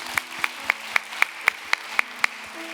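A church congregation at a Thanksgiving service claps in unison, nine crisp, evenly spaced beats at a steady rhythm, close and clear with faint background hum.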